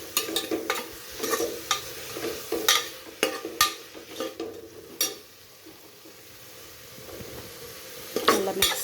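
A ginger-garlic mix is stirred in a pot for tomato basmati rice. Irregular scraping and clinking strokes come close up over a faint sizzle, with a pause near the middle before a last burst of scraping.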